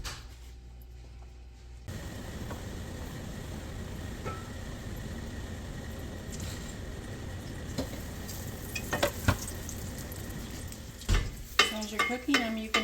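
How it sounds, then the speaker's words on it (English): A flour-dusted, egg-battered chile relleno frying in hot oil in a pan, a steady close sizzle after a quiet start, with occasional scraping and spatula clinks toward the end. "we're gonna dip it in the egg. And we're going to fry it."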